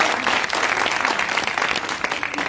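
Lively applause from a crowd at a public event with Sierra Leone's First Lady, a dense, close patter of many hands that stays loud and steady throughout.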